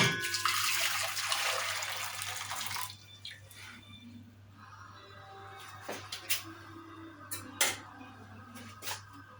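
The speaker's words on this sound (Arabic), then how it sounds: "وغالية مية في الكاتل اهو" Water in an electric kettle rushes at a loud, hissing boil for about three seconds, then cuts off, leaving a quiet kitchen with a few faint drips and light clinks.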